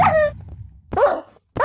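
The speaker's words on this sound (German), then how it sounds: "Du hast einen Hund. Töte deinen Hund bitte." Dog in the Minecraft video game giving a few short yelping barks, close and clear with brief gaps between them, no talk.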